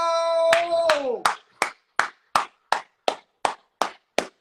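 A man claps his hands in a steady run of about ten sharp, loud, evenly spaced claps, close to the listener, following a brief sustained vocal shout at the start.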